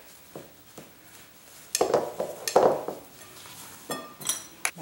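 Tart dough being mixed by hand with sour cream in a bowl: a soft, quiet clinking at first, then louder squelching and scraping in bursts, close up with no talk.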